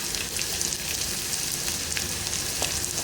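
Chili hits a pan of frying onion and tomato and sizzles steadily and densely. The crackling hiss is close and continuous, and nobody speaks.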